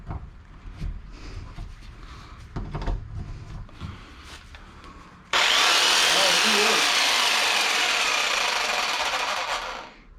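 A Bosch Fine Cut power saw fitted with a new blade, turned on in a cluttered shed after faint handling noises, then a loud, steady high-pitched whine that runs for several seconds before stopping.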